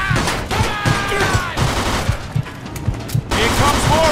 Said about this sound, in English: Kill the bastard! Shoot Vito!